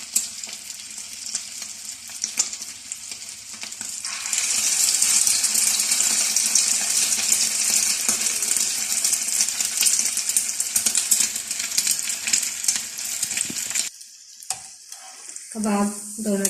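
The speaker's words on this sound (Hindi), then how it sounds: "स्लो आंच पे फ्राई करेंगे।" Boti kabab frying on slow heat, a dense continuous sizzle that swells loud midway, with occasional clinks and stirring before it cuts off and faint sputters return.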